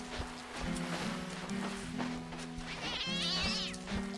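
A distressed cat being held by the scruff gives drawn-out, strained meows with some hissy breath, loud and close, continuing in a steady series of wails.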